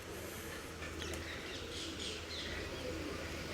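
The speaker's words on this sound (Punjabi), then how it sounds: "ਇੱਕ ਤਾਂ ਕਬੂਤਰ ਕੱਢਿਆ ਸੀਗਾ ਆਪਾਂ" Pigeons coo softly and steadily in a low, continuous murmur, with faint chirps now and then and no voices.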